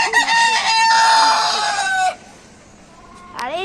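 Chickens clucking and a rooster crowing loudly close by in a home garden, one long crow followed by a pause, then another crow beginning, with no talk.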